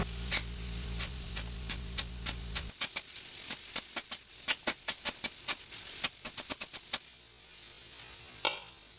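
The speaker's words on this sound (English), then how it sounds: "The arc keeps going different ways because it's rounded." Arc cutting with an Arccaptain Cut 50 plasma cutter on a rusted, painted 1/8 inch bed frame: loud, sharp crackling bursts that keep stopping and restarting in an uneven rhythm, with no talk.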